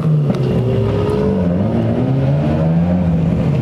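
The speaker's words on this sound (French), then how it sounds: "Putain, par contre, elle fait un de ces bruits, la MX5." A Mazda MX-5 engine revs loud and close, its tone rising and falling through a sustained growl, with no voices over it.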